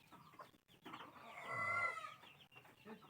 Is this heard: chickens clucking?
yes